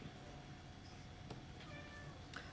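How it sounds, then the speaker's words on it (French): A pet cat named Ninette meows faintly in the distance in a dim room, short soft cries half-buried in steady background hiss. "tu vas pas miauler sur toutes mes vidéos"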